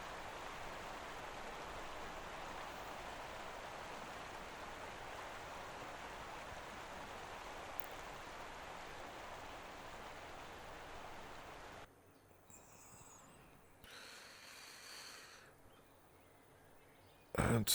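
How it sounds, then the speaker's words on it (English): Steady, soft rushing of a small waterfall and flowing water in a forest park in Euro Truck Simulator's Rheinland-Pfalz map, a continuous faint wash that drops away near the end. "Even a small waterfall."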